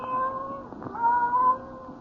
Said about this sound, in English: the silence was broken by the faint crying of one cat